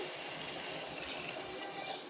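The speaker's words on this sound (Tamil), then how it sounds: "தண்ணி சேர்த்துக்கலாம் கரெக்டாக ஒரு டம்ளர் தண்ணி" Water pours steadily into a pressure cooker in a continuous splashing rush lasting a couple of seconds, close by and fairly loud.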